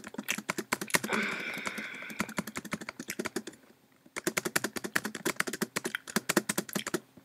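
A computer keyboard's spacebar is tapped rapidly and repeatedly, close and crisp, in quick bursts that pause for a moment before resuming, with a faint voice in the middle of the first stretch.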